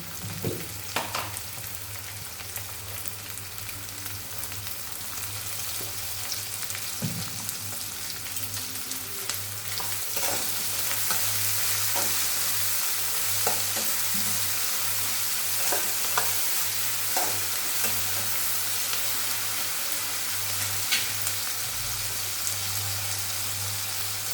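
Onions with a pinch of salt frying in hot oil for a Telugu-style chicken fry, a steady close sizzle with scattered crackles and occasional stirring scrapes, growing a little louder and denser partway through.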